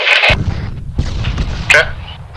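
Bursts of rapid gunfire strike a building in a PvP attack/defense drill, loud and close, with crackling shots at the start and more around the middle and end over low rumbling booms.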